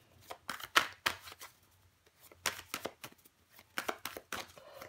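Tarot cards are handled and laid down in a series of soft, close papery flicks and slaps with brief pauses, heard alone at low volume.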